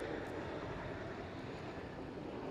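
A Chinook helicopter flying a display at an airshow gives a steady, loud broadband rotor and engine roar that holds constant throughout, with no voices.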